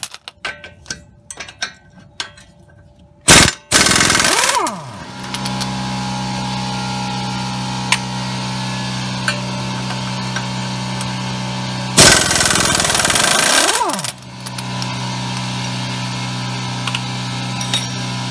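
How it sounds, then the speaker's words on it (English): An air compressor in a garage, heard during a 2011 Toyota Highlander CV axle replacement, starts with a loud burst and settles into a steady droning motor. It cuts out, then kicks in again with another sharp burst and a sustained run. "Yeah, my compressor kicked in."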